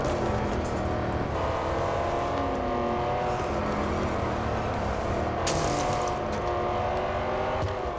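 A race car engine in the mobile racing game Real Racing 3, driving a Jaguar F-Type SVR, drones loudly and continuously with shifting revs as the car skids through a corner, with a brief sharp burst partway through.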